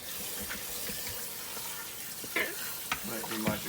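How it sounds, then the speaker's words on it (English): Water runs from a kitchen tap to rinse grated potatoes for hashbrowns, a steady hiss broken by a few splashy sloshes and clatters near the end. "Give it one more rinse."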